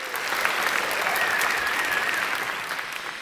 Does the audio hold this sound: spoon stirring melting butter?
no